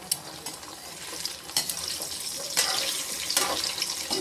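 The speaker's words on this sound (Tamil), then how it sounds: "இப்போ வந்து நம்ம முட்டையை உடச்சி வச்சுருக்கோம், ஊற்றிடுவோம்." Beaten egg hits hot oil in a pan, giving a soft, continuous hiss with several sharper crackling bursts, heard up close and fairly quiet.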